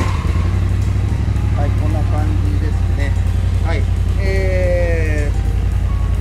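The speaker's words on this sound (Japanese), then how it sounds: "でエンジンかけるとですね" An Aprilia SRV850 scooter engine idles with a steady, loud low rumble throughout, while a person talks over it and a few brief electronic tones sound partway through.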